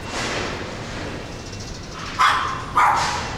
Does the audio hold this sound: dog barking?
yes